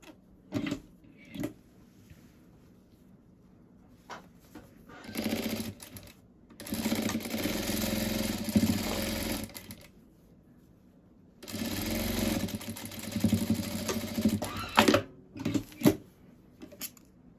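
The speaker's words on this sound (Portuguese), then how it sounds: "eu bato uma costura aqui" A sewing machine runs two sustained bursts, each several seconds long, as it stitches a seam on a fabric butterfly doll. Quieter handling clicks and taps come before, between and after the bursts.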